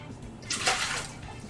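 Water running into a hot cooking pan to rinse out leftover sugar, a brief splashing rush that swells and fades over about a second at close range.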